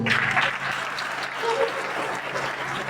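Congregation applauding in a Pentecostal church at an anniversary service, a steady wash of many hands clapping that fills the room for about three seconds, with faint voices and a low hum underneath.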